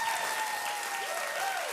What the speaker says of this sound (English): give them double the applause